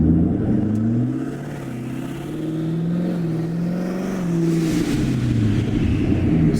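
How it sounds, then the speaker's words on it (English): Twin-turbo Ford Mustang Mach 1 V8 held at part throttle, a steady close rumbling drone whose pitch rises and falls gently, alone throughout. "The part throttle on these twin turbo cars always sounds the best."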